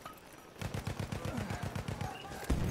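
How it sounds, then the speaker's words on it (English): A Lewis gun fires in a video game: a steady, fast stream of automatic shots, fairly close and moderately loud, running through most of the stretch before one sharper blast near the end. "the Lewis gun is actually being kind of impressive right now"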